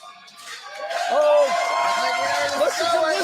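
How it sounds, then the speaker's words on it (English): Crowd noise from a live independent wrestling show, a steady roar of cheering that swells for a moment, heard beneath excited commentators talking throughout. "Oh, listen to this crowd."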